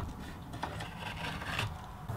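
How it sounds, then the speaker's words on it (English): Excess glue is scraped off a wooden joint on a homemade three-string license plate guitar, making a soft, close, rasping scrape in short repeated strokes. "I'll scrape off the excess glue."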